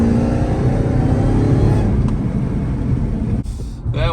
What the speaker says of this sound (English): That whine is so nice, and you know, it's all just an intake.